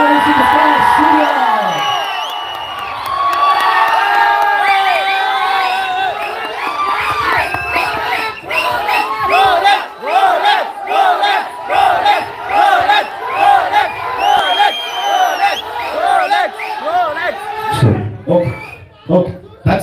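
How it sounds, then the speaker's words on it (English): A packed crowd at a film press meet in Orion Mall, Bangalore, screams and cheers loudly, with sustained shrieks and whoops rising and falling in ragged bursts before an announcer's voice cuts in near the end. "now you can scream"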